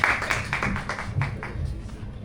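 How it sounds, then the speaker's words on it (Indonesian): Scattered clapping from a small talk-show audience, a few hands tapping in an irregular patter that stays moderately loud for a couple of seconds under room murmur. "Tepuk tangan dong"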